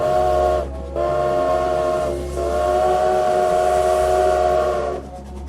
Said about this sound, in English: It was a train.